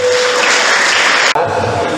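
Applause from a school audience at a university information session in Palembang, a dense steady wash of clapping that cuts off briefly near the end and then resumes.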